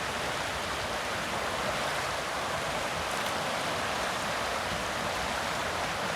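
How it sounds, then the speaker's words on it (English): A river stream near Stanley, Idaho flows steadily beside a parked rig while water is gathered into a bucket, giving a dense, constant rushing wash with no voices. "Collecting water to wash the rig from the river."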